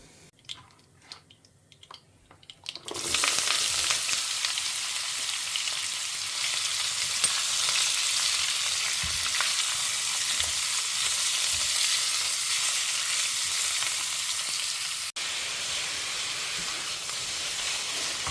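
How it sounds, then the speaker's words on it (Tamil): Chana dal, with urad dal, fries in a pan, then chopped snake gourd goes in. After about three quieter seconds a loud, steady hissing sizzle takes over and continues, with occasional soft stirring scrapes. "கடலப்பருப்பு இது கொஞ்சம் பொரியட்டும் ஸோ நம்ம எடுத்து வச்சுருந்த பொல்லங்காயை இதோடு ஆட் பண்ண வேண்டிதான்"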